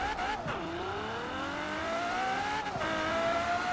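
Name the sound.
car accelerating in a street race in Forza Horizon 4 video game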